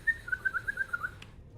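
A single thin, wavering whistle trills in quick pulses like a strangled bird, sounding close and fairly faint before cutting off abruptly.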